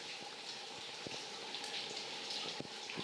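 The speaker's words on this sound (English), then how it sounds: "There's this creek again." Continuous gushing and burbling of a creek flowing inside a cave, close and steady, with occasional splashy pops and no voices.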